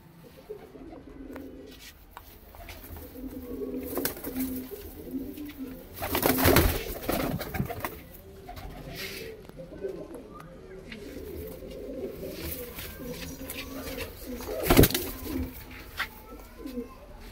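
Pigeons with long claws and white eyes cooing softly in repeated low throaty phrases, with a couple of louder flurries of wing or cage noise and someone talking intermittently over them.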